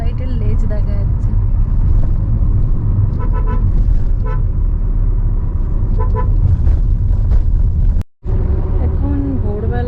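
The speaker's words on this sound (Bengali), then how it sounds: "এখন ভোরবেলায় প্রচুর ট্রাক যাচ্ছে।" Heavy traffic of many trucks on a highway near Madhyamgram at dawn, with repeated horn toots over a constant loud road rumble heard from inside a moving car, and voices talking.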